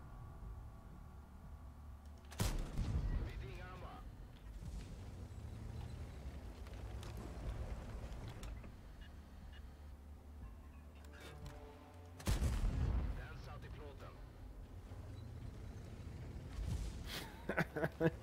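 Tank cannon shots in a tank game boom out at intervals, three heavy blasts with a longer gap before the second, over engine rumble and occasional talking.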